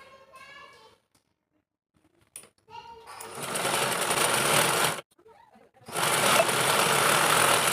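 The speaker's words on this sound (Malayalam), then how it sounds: "ഇനി ഈ സൈഡ് നമ്മൾ മുഴുവനായിട്ടൊന്ന് സ്റ്റിച്ച് ചെയ്ത് നിർത്തി കൊടുക്കാം" Sewing machine stitching along the side of a fabric pencil pouch, running in two loud sustained bursts separated by a short pause, with brief quiet moments and faint voice-like sounds before the stitching starts.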